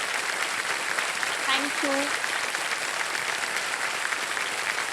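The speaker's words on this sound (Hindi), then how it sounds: "एक बार फिर जोरदार तालियों के साथ इनका" A studio audience on a televised quiz show, Kaun Banega Crorepati, claps loudly and continuously in a dense, even wash of applause, while a contestant briefly says thanks partway through.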